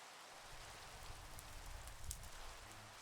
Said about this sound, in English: It wants to rain all the time.